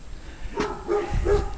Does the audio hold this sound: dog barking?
yes